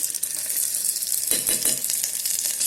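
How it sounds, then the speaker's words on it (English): Chopped onions fry in oil inside an electric kettle, giving a steady, close, bright sizzle with a few soft stirring knocks near the middle and no talking. "fry till onion turns light golden color. This time you don't have to fry like that. Okay, just fry it for 2 to 3 minutes."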